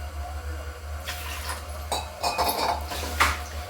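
Dishes being washed in a home kitchen, with dull clinks of pots, pans and cutlery knocking together in short bursts over a low steady hum, close by and moderately loud.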